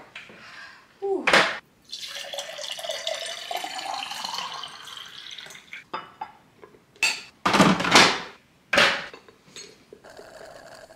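Tap water runs steadily into a sink during household cleaning, with clattering of dishes and brief bursts of handling noise breaking up the flow.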